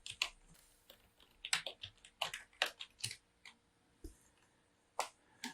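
Commands and a domain name tapped out on a computer keyboard, a close, quiet run of irregular clicky keystrokes in short bursts with brief pauses, no voices.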